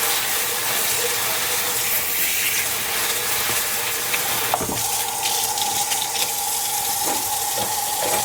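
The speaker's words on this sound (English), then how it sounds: "I'm going to give that a quick rinse so it doesn't stick" A kitchen tap runs as an item is rinsed under it, giving a steady, close rush of water with a few splashy changes midway when the flow is disrupted.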